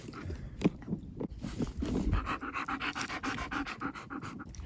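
A dog pants steadily and close by through the whole stretch, quick rhythmic breaths with a few light mouth and chewing sounds mixed in, at an off-grid home.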